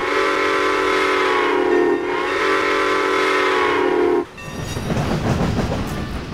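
Whistle of a small steam locomotive, a loud, close, sustained tonal blast lasting about four seconds with a slight dip midway, then cut off into rumbling train noise.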